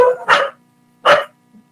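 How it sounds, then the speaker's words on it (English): A dog barks twice in a row indoors, two loud, sharp barks a moment apart, followed by a faint short whimper. "That's my dog."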